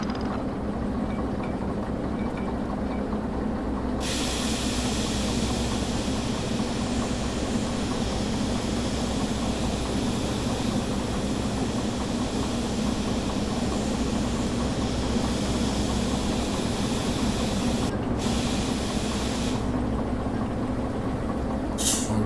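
A runaway train rolls in the Derail Valley video game, a steady, continuous rumble of wheels and rail noise that carries on without pause, with a brighter hiss joining partway through.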